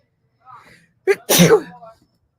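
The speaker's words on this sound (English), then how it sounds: "I sneeze" A single loud sneeze up close, preceded by a short breathy intake, in otherwise quiet surroundings.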